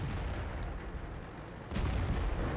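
A tank's ammo rack detonating in World of Tanks, heard as a dense, loud rumbling roar that swells into a heavier boom near the end, with no talking.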